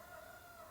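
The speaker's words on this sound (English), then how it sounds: "My rooster is being loud outside. Can you hear it?" A backyard rooster kept with a flock of hens crows loudly from outside, a steady sustained call running through the whole short stretch with no talking over it.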